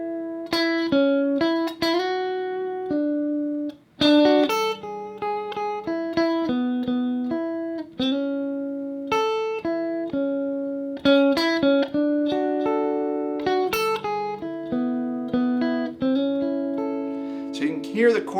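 Clean electric guitar picking triads over moving chord changes, short plucked note clusters in a steady flowing line, letting some notes ring, close and moderately loud with no talking.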